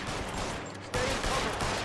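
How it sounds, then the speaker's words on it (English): Rapid bursts of gunfire from the video game L.A. Noire crackle in quick succession, a sharp louder volley after a brief lull. "How many fucking gunshots it take this guy down?"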